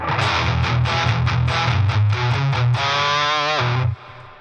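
Heavily saturated guitar distortion from a pedal with all knobs maxed, thick and fuzzy, with rhythmic chugging chords followed by a sustained bending note that cuts off abruptly.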